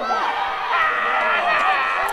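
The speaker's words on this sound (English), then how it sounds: "The crowd going absolutely bananas here." Wrestling crowd cheering and screaming wildly during a hardcore match involving a chair, a loud dense roar of many voices sustained across the moment.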